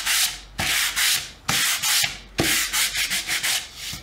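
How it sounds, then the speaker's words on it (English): A power sander works the edge of a painted wooden sign in loud, gritty bursts of rubbing, stopping and restarting several times with short pauses between passes. "use just the tippy edge of my sander where I want it"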